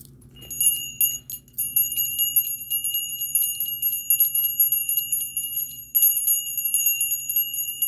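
A bell rings continuously for about eight seconds with a bright, sustained metallic shimmer, close and fairly loud, with no voices over it.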